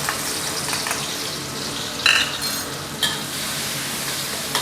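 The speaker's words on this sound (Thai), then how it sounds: "พอน้ำมันเริ่มร้อนนะครับ ก็ใส่เครื่องผัดฉาเราลงไปได้เลย" Pad cha herb paste frying in hot soybean oil for a spicy Thai seafood stir-fry, a steady broadband sizzle throughout with a couple of sharper spattering bursts, close and fairly loud, no talking.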